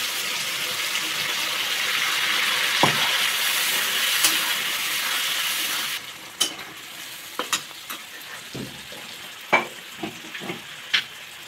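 Potatoes sizzling with tomato, cumin, chilli and ginger paste in a pan, a steady loud fry for the first half that then drops off to quieter crackles and occasional sharp clinks of stirring.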